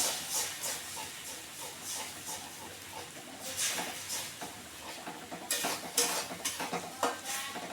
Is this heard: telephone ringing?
no